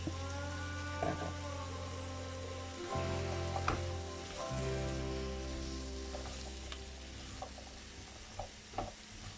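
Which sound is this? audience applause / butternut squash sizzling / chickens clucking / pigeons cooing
butternut squash sizzling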